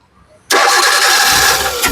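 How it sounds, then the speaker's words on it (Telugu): A 2011 Maruti Suzuki Swift VXI petrol car starts on a single crank, its engine catching abruptly and settling into a loud, steady idle close by. "సింగిల్ సెల్ఫ్ లో కార్ స్టార్ట్ అవుతుందండి ఎటువంటి స్టార్టింగ్ ట్రబుల్ అయితే లేదు"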